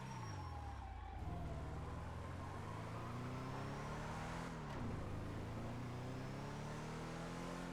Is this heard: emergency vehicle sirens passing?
yes